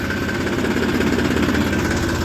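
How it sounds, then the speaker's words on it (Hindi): A tractor engine runs steadily and loudly nearby, a continuous low throbbing rumble with a faint mechanical rattle and no voices. "दोस्तों ट्रैक्टर स्टार्ट कर लिया है, चल दिए हैं जी लेके"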